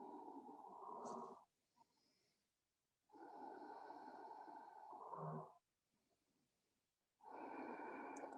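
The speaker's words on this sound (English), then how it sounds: "Hold here 4 breaths, ujjayi. Remember, through your throat, so constrict your throat. A little ocean sound, a little snoring." Ujjayi breathing during a yoga hold, air drawn through a constricted throat, gives three long ocean-like rasping breaths, each a second or two of soft snoring hiss, separated by quiet pauses, close and alone.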